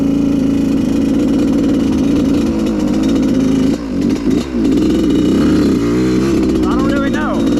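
Suzuki two-stroke dirt bike on a trail, its engine running steadily at a buzzing mid-pitched idle with a few throttle dips and rising revs near the end, close and loud throughout.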